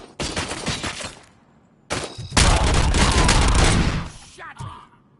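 Gunfire in the shooter game Robocop: Rogue City: a loud burst of shots, a short pause, then a longer, denser barrage of rapid automatic fire with heavy booms, ending in a final sharp shot.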